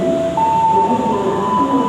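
Jayabaya passenger train at an Indonesian railway station, a steady rumbling hum with a sustained tonal whine running throughout, close and fairly loud, with no talking.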